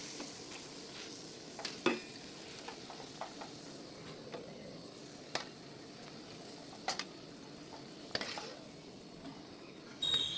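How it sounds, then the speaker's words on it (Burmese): Puri sizzles and crackles as it fries in hot oil, a steady fizzing bed broken by occasional clinks of a utensil against the pan. "ဒါတော့ဇူကြော်နေရပါ"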